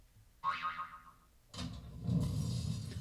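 A cartoon boing sound effect for a falling rock springs up with a bright wobbling twang that fades, followed by a low rumbling thud that swells and lingers.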